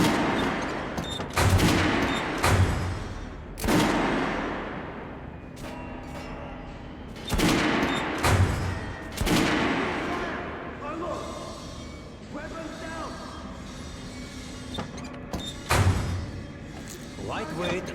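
Guns are test-fired on a shooting range in Metro: Last Light, a lightweight fully automatic weapon among them, with several separate bursts and single loud reports spaced out over a low ambient rumble.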